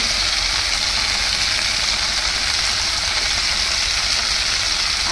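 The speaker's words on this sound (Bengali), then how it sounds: "এতেই সবজিটা ভাজা একটু হয়ে গেলে তারপরে মশলাটা দেব। ঠিক আছে, ভেজে নিই।" Vegetables for Bengali shukto frying in a pan, a steady, loud, unbroken sizzle with bright hiss running throughout and no talk over it.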